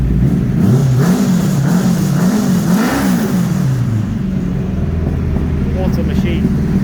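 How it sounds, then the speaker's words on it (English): A kei truck fitted with a swapped motorbike engine revs several times, the pitch rising and falling in repeated swells before settling back to a steady idle, loud and close throughout. "Let's give her a little rev so you can hear the old"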